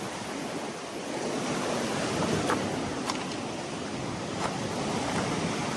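Rough surf rolls onto a sandy beachfront lot in Quezon during stormy, rainy weather, a steady broad wash of waves mixed with wind noise buffeting the microphone, with a few sharper breaking crests standing out.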